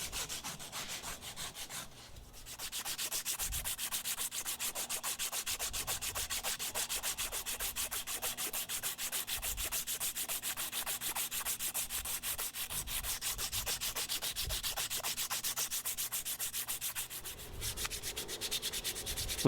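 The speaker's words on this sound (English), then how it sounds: "And after the Dremel, you're ready to hand sand." Rapid, steady rasping strokes of hand sanding a custom knife handle repeat evenly for a long stretch, close and continuous, with a faint hum underneath.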